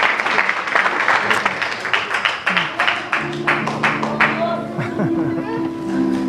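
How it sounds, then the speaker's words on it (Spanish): A church congregation claps loudly for about three seconds; the applause thins as a sustained musical tone and voices rise underneath, with talking continuing through the fading claps. "Dale un fuerte aplauso al Padre y al Espíritu Santo"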